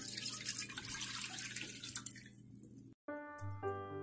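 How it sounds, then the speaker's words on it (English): Milk poured into a cooking pan for homemade mango ice cream makes a steady, close splashing rush for about three seconds, then cuts off, followed by clear ringing tones. "Pour milk in the pan."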